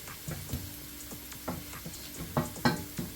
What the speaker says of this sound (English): this one is just to do this little frying up stuff I'm doing right